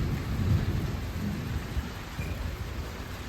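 A thunderstorm with wind, heavy rain and large falling drops: a steady, dense rain roar with a low thunder rumble swelling near the start, close and continuous, with no voices.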